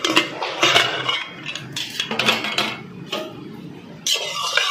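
Lid of a pressure cooker being opened after cooking oats at home, with close metallic clanks and rattles and short breathy bursts of noise between quieter pauses.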